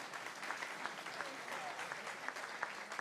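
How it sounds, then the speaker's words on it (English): Audience clapping fills a town hall meeting for older New York City residents, a steady, dense patter of many hands at moderate volume with a few sharper claps, continuing throughout. "everybody applaud Connor who's getting married"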